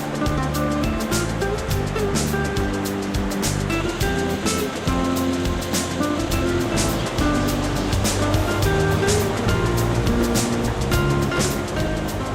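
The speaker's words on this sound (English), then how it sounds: "The wheel that Steven is turning right now was draining all the water out, just like a drain in a bathtub." Water rushes steadily out of a canal lock chamber as it drains, a continuous loud churning roar with no breaks and no one talking over it.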